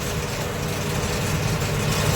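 A Kubota M7040 tractor runs at steady throttle while driving a Case 8430 baler through its PTO, making a loud, constant, low engine drone with a rumbling mechanical texture and no talk.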